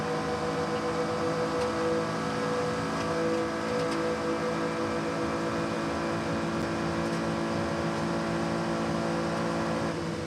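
A Konica Minolta Acura race car at the Rolex 24 At Daytona, steady loud engine drone running the full length without letup, sustained at high revs through the tri-oval and into turn one.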